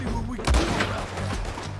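Sniper rifle gunfire in the video game Red Dead Redemption 2, a loud boom-like shot near the middle over a steady low game rumble, with a fainter second report later.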